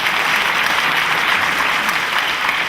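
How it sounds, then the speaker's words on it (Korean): Studio audience clapping at a live public broadcast, a dense, loud and even wash of applause sustained throughout with no voices. "박수 한번 주시죠."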